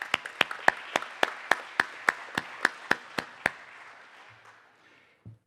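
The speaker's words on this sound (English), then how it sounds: "let's give them a big round of applause" At a Clearinghouse CDFI annual meeting, slow, evenly spaced handclaps ring out about a dozen times in a steady rhythm. They are sharp and fairly close, then stop, leaving a quiet room.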